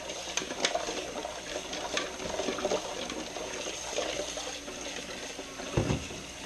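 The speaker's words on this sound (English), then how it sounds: "fill it up with cold water once more" Cold water runs from a tap into a pot, a steady splashing stream with small gurgles and a clunk near the end.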